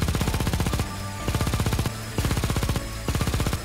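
Rapid machine gun bursts from the shooter game XENORAID, three or four loud, evenly paced volleys of fast repeating shots separated by brief pauses of quieter background hum.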